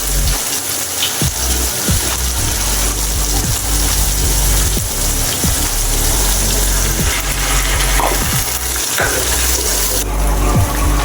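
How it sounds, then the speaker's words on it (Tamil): Water pours steadily into a cooking pan after a mixer jar is rinsed, making a continuous gushing, splashing rush while brinjal kuzhambu is cooked in a home kitchen. "இப்போ நம்ம அரைச்சி வச்சுருக்க பேஸ்ட்டை இதில் மிக்ஸி ஜார் அலசி கொஞ்சம் தண்ணி ஊற்றிக்கலாம்"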